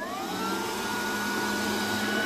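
A heater blower fan runs inside a Bajaj Qute quadricycle, a steady whooshing whir with a faint tonal hum, held close and constant throughout with no talk.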